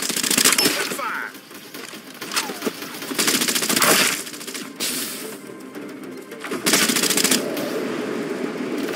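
Automatic machine gun fire from the shooter video game Farlight 84, loud rapid bursts in several separate volleys with brief gaps between them, with a voice speaking briefly between the shots.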